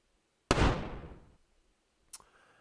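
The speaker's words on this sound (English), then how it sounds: "It is a gunshot sound." A single gunshot sound effect, a sharp loud crack with a noisy decaying tail lasting about a second, followed by a short faint click.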